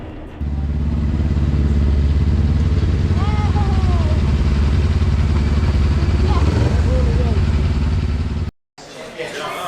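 A Kawasaki Ninja senior racing motorcycle crossing the finish line at Snetterton, a loud continuous engine roar heard close, likely from onboard, with a voice talking over it, a brief dropout near the end, then the engine returns.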